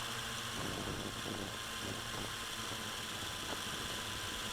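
MJX X101 drone motors and propellers drone steadily in flight at low throttle over a gully, a constant faint buzzing hum heard from a distance, with no talk.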